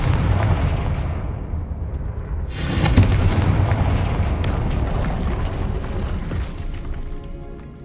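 The explosive Confringo spell in the Hogwarts Legacy video game goes off in two loud, booming blasts. Each one is a sharp burst that fades into a long rumbling decay.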